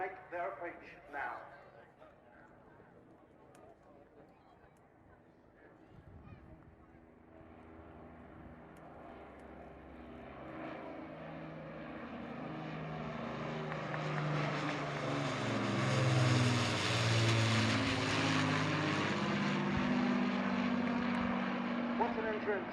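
Piston engines of the Lancaster PA474 bomber drone on approach at an air display, starting distant and faint, then growing steadily louder with a deep throbbing hum and rising pitch sweep as the aircraft nears.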